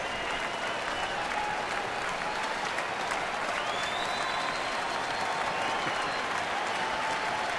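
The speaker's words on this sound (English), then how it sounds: "Crowd trying to get Saito through this inning." Spectators at a Milwaukee baseball stadium cheer and clap during a game against the Cincinnati Reds in 2011, a constant distant roar of applause and crowd noise with no break.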